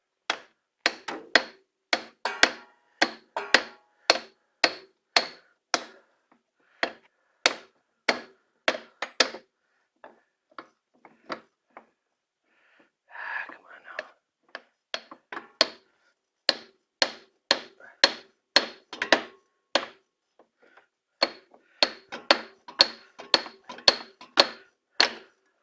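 Hammer tapping a CV axle out of the differential of a Polaris Sportsman 500 or 700 ATV, many sharp metallic strikes in quick rhythmic runs with brief pauses, close and loud, no talking.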